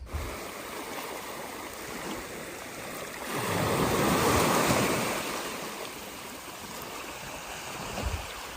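Broadband surf washing steadily on a Mediterranean beach at Tekirova, Turkey, swelling louder for a couple of seconds midway before settling back, with a rough wind-like hiss throughout.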